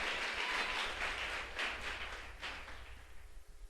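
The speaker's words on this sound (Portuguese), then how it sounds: "Você pode aplaudir o Senhor?" A church congregation applauds together, a steady wash of many hands clapping close by that thins and fades toward the end.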